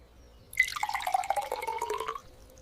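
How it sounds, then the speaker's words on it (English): Water pours into a glass in one continuous splashing stream, rising in pitch as the glass fills, close and alone. "I pour myself a glass of water."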